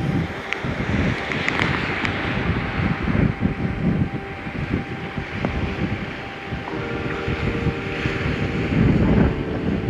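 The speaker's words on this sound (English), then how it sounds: "Beautiful conditions, apart from this bloody wind." Strong coastal wind buffets hard and continuously, roaring in uneven gusts with a rough, blustery rumble and no voices.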